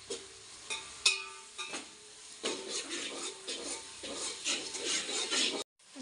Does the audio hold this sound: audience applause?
no